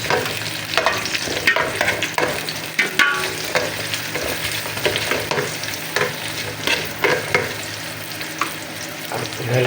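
Ginger sautés in a pan for shrimp sinigang with a steady sizzle, and the spatula scrapes and stirs in frequent bursts close by. No one speaks.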